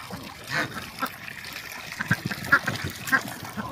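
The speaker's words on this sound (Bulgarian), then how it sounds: "Ето патиците ви поздравяват сутрешно" Ducks and geese on a pond at a water-lily farm near Pleven, with scattered quacks and honks over soft splashing and trickling water, moderately close, in steady outdoor ambience.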